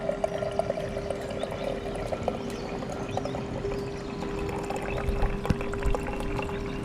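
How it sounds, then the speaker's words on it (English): Freshly brewed tea pouring from a brewing machine into a glass server, a steady liquid stream with a faint hum running throughout and small splashes and clicks, close and continuous with no talking. "I push the release switch and watch the tea pour into the glass server"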